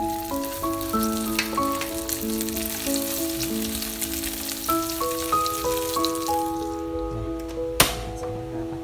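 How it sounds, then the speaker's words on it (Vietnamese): Pieces of vegetarian food fry in oil in a pan for a Lunar New Year meal, a steady close sizzle and crackle running the whole time beneath a bright melodic background tune. "còn miếng nào chưa vàng thì mình sẽ để đó mình chiên tiếp"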